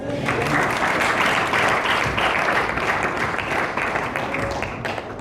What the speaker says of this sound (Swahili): Tukuchapie tu makofi sasa.